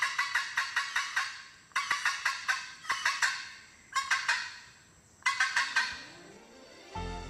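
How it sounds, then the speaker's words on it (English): Red-throated caracara, a falcon-family bird of Central America's Darien region, giving loud harsh rhythmic calls in five separate bursts of rapid repeated notes, close and clear with no talk. "The red-throated caracara, belonging to the falcon family,"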